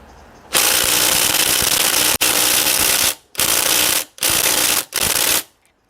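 A Makita high torque impact driver driving a screw: loud hammering bursts in five runs of about half a second to a second and a half, with short gaps between, then it falls quiet.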